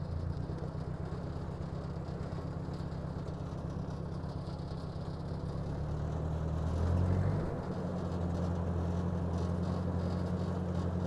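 A Ford NAA Jubilee tractor engine runs steadily with a low, even thrum while driving down a driveway, the pitch shifting and swelling briefly before settling back into a constant drone, with no talking.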